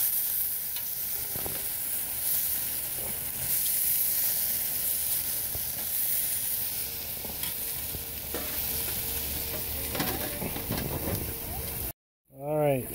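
Food sizzles steadily on a Pyromid grill as it is flipped, a constant frying hiss broken by scraping and clinking of a utensil, with a person talking intermittently over it before a brief cutoff.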